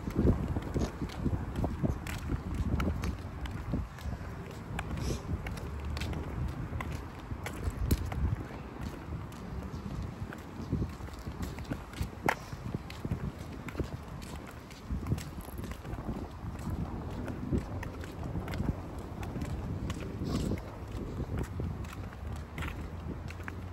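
Steady footsteps crunching along a hard sidewalk, close by, on a cold day with gusty wind buffeting the microphone throughout.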